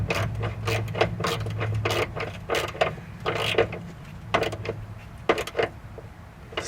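A 10mm bolt on a Chevy Cobalt fuel filter is tightened by hand, producing close, irregular mechanical clicks and ratcheting taps over a low background hum.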